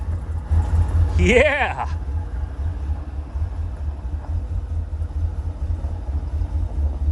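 A 1985 Chevy Corvette rescued from a Florida swamp pulls away on its first drive, a low engine rumble rolling steadily over gravel while a person speaks briefly near the start.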